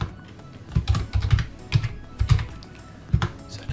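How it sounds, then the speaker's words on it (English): Keys clatter on a computer keyboard while someone types a name and address into an Excel spreadsheet, coming in close, irregular bursts of quick taps with short pauses between. "now I'm going to type in B5, my name, then make up an address"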